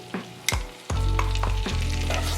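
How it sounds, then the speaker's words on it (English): Minced garlic hits melted butter in a pan on medium-low heat with a few sharp clatters, then breaks into a steady, close sizzle that continues to the end. "Let's go ahead and now add our 3 to 4 tablespoons of minced garlic."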